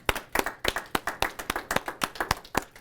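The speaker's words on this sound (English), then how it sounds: "So hopefully you can hear the applause here in the room" Clapping in a meeting room, a small group applauding at an annual year-in-review gathering, with sharp, distinct claps in a steady, fairly close rhythm throughout.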